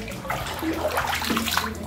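Rice washing water mixed into a fertilizer solution is stirred and sloshed in a container, a continuous close splashing and swirling for under two seconds.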